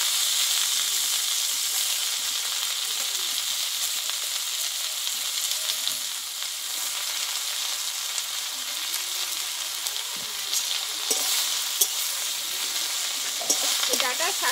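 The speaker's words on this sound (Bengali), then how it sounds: "এবার কেটে ধুয়ে রাখা কুমড়োর ডাঁটা শাকটা আমি দিয়ে দেবো।" Chopped, washed pumpkin stem greens fry in white oil for a vegetarian dish, giving a loud, steady sizzle that runs unbroken throughout, with occasional scrapes and clacks from stirring.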